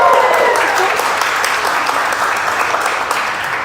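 A conference audience applauds loudly and steadily, a dense wash of clapping that carries on with little change for several seconds.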